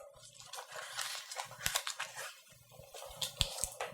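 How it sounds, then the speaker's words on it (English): A parchment paper circle for a cake support is folded into quarters, giving soft crinkling and crisp creasing rustles in short bursts, close and fairly quiet. "I'm going to fold my parchment circle into 4"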